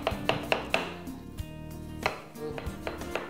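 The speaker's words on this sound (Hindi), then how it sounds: "बाइट साइज पीस में काट लेते हैं" Knife chopping a watermelon into bite-size pieces on a cutting board, a series of close, crisp thuds in an uneven rhythm with a few softer gaps.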